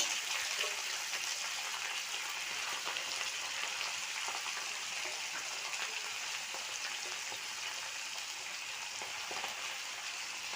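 Washed, lightly dried leafy greens frying in hot oil in a pan: a steady, even hiss of sizzling with faint crackles throughout, fairly quiet and unbroken by talk.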